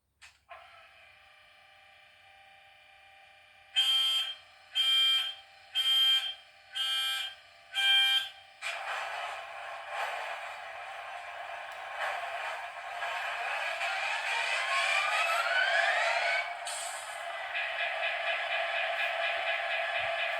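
Model locomotive sound from a Lok Sound version 5 decoder: a steady droning engine hum, then five rhythmic horn or buzzer blasts, followed by a louder, rising diesel engine roar with a brief extra tone, no talking.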